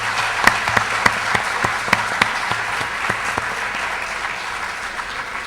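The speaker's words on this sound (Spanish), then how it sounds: "los invitamos a brindarle un fuerte aplauso a los disertantes por esta segunda parte de la reflexión" An audience at an education lecture gives a steady round of applause, with sharp individual claps standing out above the dense clapping.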